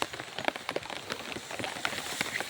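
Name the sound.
rain falling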